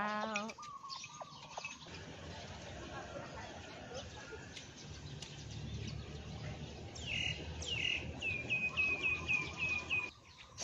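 Birds chirp and tweet through a dense outdoor morning background, with a chicken's rooster-like call early on and a clear rising bird trill near the end.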